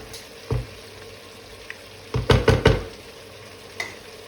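Meat browning in a pan for a Hünkar beğendi, sizzling faintly in the background while a utensil stirs and scrapes in a few short bursts, the loudest cluster near the middle.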